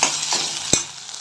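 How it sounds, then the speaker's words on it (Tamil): Chopped onions with green chilli, curry leaves and tomato sautéing in a pan for a Tamil urundai kuzhambu, a close hiss of frying with a few sharp stirring scrapes, no talk. "வெங்காயம்லாம் வதங்கிடுச்சு."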